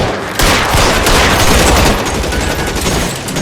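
Gunfire in the video game L.A. Noire: a loud burst of several rapid, echoing shots that rattle on for a few seconds before trailing off.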